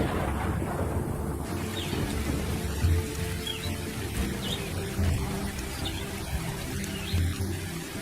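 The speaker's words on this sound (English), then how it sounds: "the big thunderstorms, bringing the season's first heavy downpours, are starting to roll in" Steady heavy rain hisses over everything while low rumbles of thunder roll in and out, with no voices.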